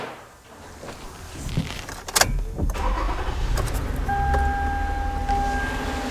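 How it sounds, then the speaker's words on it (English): A Toyota car engine cranks and catches after a crankshaft position sensor replacement, then settles into a steady running idle with a whining tone, heard up close with no talking. "So that Toyota seems to be running just fine."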